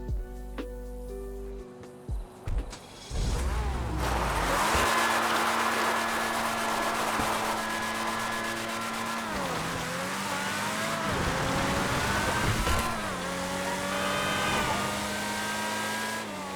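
The Deveste Eight supercar in a GTA game idles and blips briefly, then its engine wails through sustained high revs that rise and dip with gear changes, loud and close throughout, with no voices.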